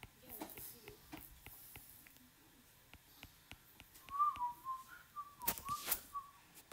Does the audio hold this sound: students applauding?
no